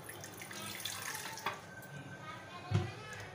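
Water trickles and splashes softly from a tap while chicken mughlai is prepared, with faint intermittent splashes and a brief low voice underneath.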